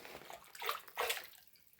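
A hand splashing in ice-cold water inside a cave, two soft sloshing swishes, fairly quiet and close, with no talking.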